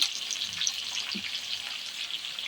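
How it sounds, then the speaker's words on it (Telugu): Okra and green chilies fry in hot oil in a pan, giving a continuous close, even sizzle with a faint brief knock of a utensil midway. "బెండకాయలు అయితే మంచిగా ఇట్లా వేయించుకోవాలన్నమాట"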